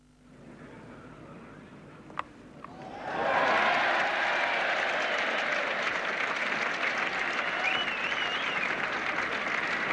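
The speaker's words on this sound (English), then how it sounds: "And quite deservedly that got a cheer." A cricket crowd at Trent Bridge during a 1978 England versus New Zealand Test match breaks into sustained applause and cheering for a stroke, rising suddenly from quiet murmur and holding loud and broad, heard from the commentary position.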